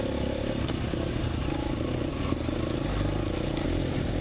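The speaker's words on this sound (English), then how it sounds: "Chris is revving up his HP2" A BMW HP2 motorcycle engine runs loud and close in a forest, a steady throaty rumble with slight throttle swells and some rattling clatter, no talk over it.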